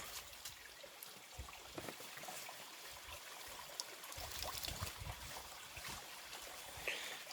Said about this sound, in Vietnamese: Bất ngờ thấy có cái suối nhỏ ở đây